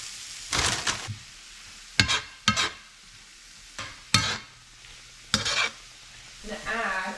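Kale with garlic salt and paprika cooks down in a pan. Sharp scraping bursts come from stirring at irregular intervals, with a faint sizzle between them and a louder frying hiss rising near the end.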